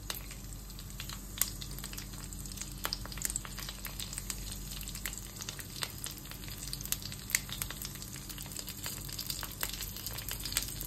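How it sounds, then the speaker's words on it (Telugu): Cracked green chillies frying in hot oil for a South Indian tomato chutney, a steady close sizzle with fine crackles and pops throughout and no voices. "పచ్చిమిర్చి ఇలాగే వేస్తే చిట్లుతుందండి, కాబట్టి నేను కొద్దిగా క్రాక్ చేసి వేస్తున్నాను."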